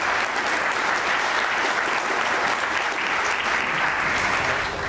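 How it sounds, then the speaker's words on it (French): A crowd claps steadily and loudly throughout, a dense, continuous wash of applause with no break. "on l'applaudit très fort en tout cas"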